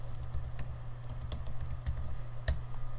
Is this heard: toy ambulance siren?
no